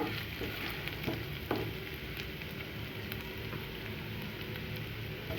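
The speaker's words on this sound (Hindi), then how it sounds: "ये अदरक लहसुन गया अंदर, और बस कुछ ही सेकंड इसको भूनेंगे" Ginger and garlic sizzle in hot oil in a pan for a tempeh gravy, a dense, steady crackle with a few soft stirring knocks, close and continuous with no talking.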